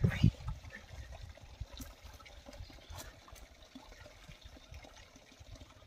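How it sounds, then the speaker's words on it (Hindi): Forest stream water trickling and flowing beneath a large stone, a steady close gurgle with a brief louder splash at the start. "पानी इस पत्थर के नीचे बह रहा है"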